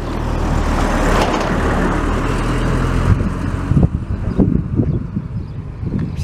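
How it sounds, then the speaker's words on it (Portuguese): Cars pass on a road in a loud, steady rushing wash that eases off, followed by a few bumps and clatters close by. "Preciso ter cuidado aqui com esses carros."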